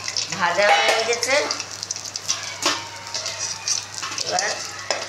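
Small pieces of bhetki (barramundi) fish sizzle loudly in hot oil in a pan, a steady close crackle with bursts of stirring.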